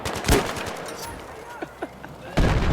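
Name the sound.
magnum revolver shot in Battlefield 3 video game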